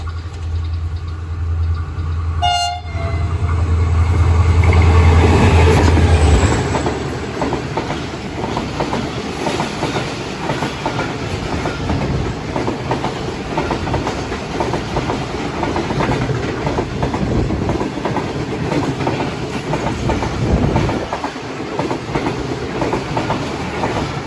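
Sir Syed Express passenger train, led by an HGMU 30R locomotive, passes at speed through Lundo railway station in Pakistan, with a steady loud rumble and clatter of wheels on rails and a brief horn near the start.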